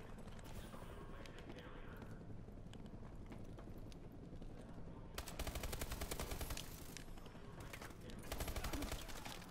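An automatic gun in Call of Duty: Advanced Warfare fires by itself during a team deathmatch. Bursts of rapid gunfire arrive in two loud clusters over a busy background of game noise.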